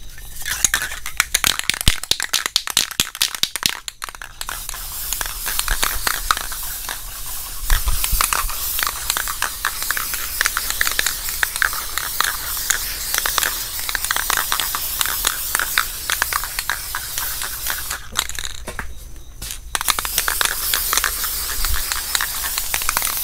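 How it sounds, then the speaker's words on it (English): Flat black spray paint is sprayed as a guide coat onto a car panel of a Box Chevy Caprice LS Brougham, giving long, close, steady hissing bursts separated by brief pauses where the nozzle is released. "I'm gonna be using this flat black spray paint"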